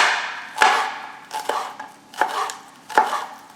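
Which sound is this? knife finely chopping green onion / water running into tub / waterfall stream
knife finely chopping green onion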